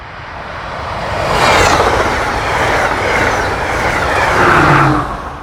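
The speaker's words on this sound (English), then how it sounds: "one of the coolest things about the Siemens Sprinters is the amount of whine from the traction motors" Siemens Sprinter locomotive hauling an Amtrak Keystone Corridor train past at speed, a loud rushing roar with wheel clatter and rising, falling traction motor whine swelling twice as it goes by.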